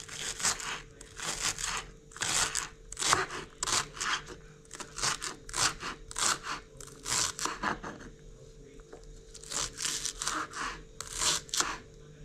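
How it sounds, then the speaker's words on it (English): Onions being sliced on a chopping board in a home kitchen in Kibera, Nairobi, with a series of crisp, fairly quiet cuts in an uneven rhythm and a short pause partway through. "So we're just gonna cut the onions."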